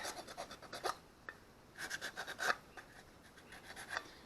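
Sandpaper roughens a surface in short, quiet rubbing strokes, a few scratchy passes spaced irregularly with brief pauses between them.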